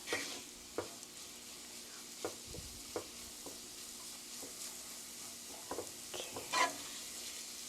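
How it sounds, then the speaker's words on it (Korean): Kimchi fried rice sizzles softly in a hot pan, with intermittent scraping and tapping as it is stirred, quiet and close. "이제 지글지글 소리가 납니다"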